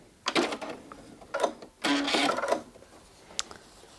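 A sewing machine stitches an appliqué layer on a fabric mug rug, running in several short bursts with pauses between, fairly close and moderately loud, followed by a single brief click.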